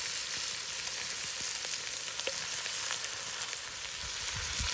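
Meat sizzles on browned onion and celery in a cast-iron potjie pot over a wood fire, a steady soft crackling hiss with scattered pops, moderately close and alone.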